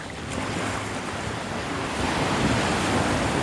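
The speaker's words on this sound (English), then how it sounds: "got a lot of water coming up here. I think this one's going to be a big one." Ocean waves surge and break steadily on Chaweng Beach, Ko Samui, a broad continuous wash of surf with wind buffeting the microphone, swelling slightly louder toward the end with no voices.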